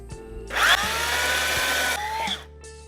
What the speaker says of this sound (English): I get to use the chainsaw